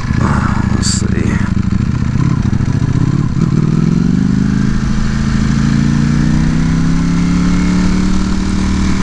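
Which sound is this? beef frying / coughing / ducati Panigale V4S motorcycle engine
ducati Panigale V4S motorcycle engine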